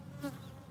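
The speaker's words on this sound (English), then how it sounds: "one bee literally like flew right by me" A single bee buzzes past close by in a brief rising-and-falling hum, faint against outdoor background noise.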